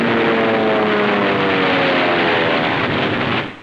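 A plane flying during the Marines' World War II assault on Tarawa, a loud, steady engine drone with a propeller hum that fades at the end.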